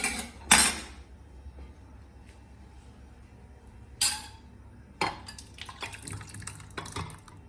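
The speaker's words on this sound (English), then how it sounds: "I'm going to transfer this into a bowl." Food is scraped and tipped into a bowl, with a few sharp clinks of a spoon against dishware and soft wet splatters between quiet pauses.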